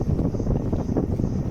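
Outdoor wind blowing in Dalhousie, Himachal Pradesh: a steady, loud low rumble of gusts buffeting the microphone, continuous with no distinct events.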